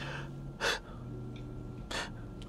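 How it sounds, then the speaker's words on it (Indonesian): A wind instrument player takes two sharp, close inhalations about a second apart, played back through an Innova Zenix car audio system over a soft sustained tone. "Dia ambil napas buat niup."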